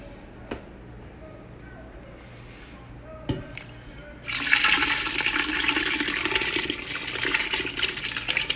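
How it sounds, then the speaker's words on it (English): Seafood stock pours into a roux and seafood stock mix in a pan for seafood and sausage gumbo, a loud steady rush of liquid starting partway in after a few faint clinks. "We're going to add it right to our roux seafood stock mix."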